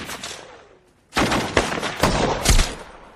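Gunfire from the war film Lone Survivor: a quieter opening gives way to loud, close bursts of cracking shots and booms that crowd together.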